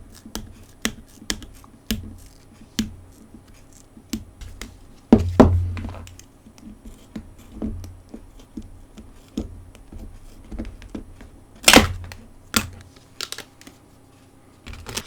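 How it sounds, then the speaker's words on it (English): Prying the cracked screen off a Samsung Galaxy A70 phone slowly to get under the glue, giving sharp clicks and taps at irregular intervals, with a couple of louder snapping cracks, close by and without talk. "I'm just prying it very slowly to get under the glue."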